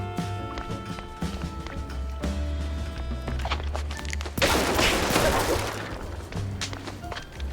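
Gunfire in a mouse private-investigator video game: a dense burst of shots erupts about midway over a steady musical game soundtrack, loud and close, with scattered sharp impacts before it.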